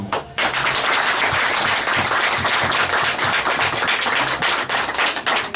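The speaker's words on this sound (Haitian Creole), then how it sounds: "On nous applaudit encore." A wedding audience at a church claps and applauds in a dense, loud, continuous patter that carries on evenly throughout.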